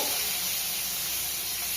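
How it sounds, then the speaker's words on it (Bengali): Chopped onion and garlic sizzle steadily in hot oil, with a dense, even frying hiss that holds constant and close throughout. "এবার পেঁয়াজ কুচি, রসুন কুচি, রসুন কুচি দিচ্ছি। তেলে"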